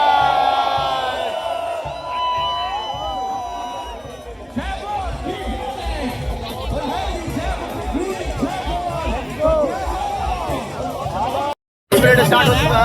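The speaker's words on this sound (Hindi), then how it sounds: "यहाँ पे भाई बहुत ज़्यादा भीड़ है फिलहाल में, बहुत सारे लोग हैं हमारे साथ" Dense crowd roar and babble at the start of the AU Jaipur Marathon parade, loud and continuous with overlapping shouts and whoops, briefly cutting out near the end.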